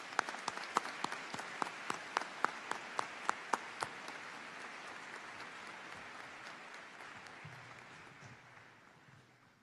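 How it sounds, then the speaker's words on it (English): Auditorium audience at a high school graduation applauds faculty and staff, with distinct sharp claps standing out early over a steady wash of clapping that gradually fades toward the end. "Let's give everyone a round of applause."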